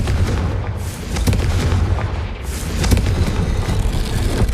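The Confringo blasting spell in Hogwarts Legacy sets off loud, rumbling explosions that roll on continuously with heavy low-end booms and brief surges.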